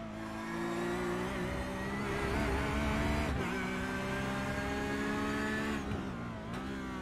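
A GT3 race car engine drones loudly and continuously during an endurance race at Road America, revving and shifting pitch as it works through gears, with no talking.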